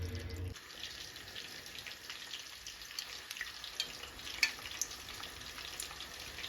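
Potatoes frying in hot oil, a constant fine hiss and sizzle with scattered small pops and crackles, fairly quiet and close, with no one talking.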